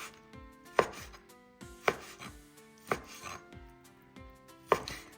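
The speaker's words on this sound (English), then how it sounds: "Slicing the tuna now." A large new knife slices raw tuna on a cutting board for Lao tuna laab. Crisp, evenly spaced chops land about once a second over soft background music.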